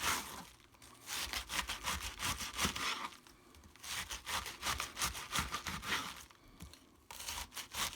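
Cabbage being sliced by hand into roughly one-inch pieces with a knife, giving a run of crisp, crunchy cuts in bursts with short pauses, close and fairly loud, with no talking.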